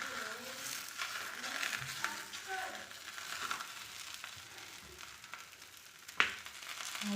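Parotta dough cooking on a hot tawa gives a soft, steady frying sizzle with faint crackles and one sharp scrape or tap near the end, close by, with no talk.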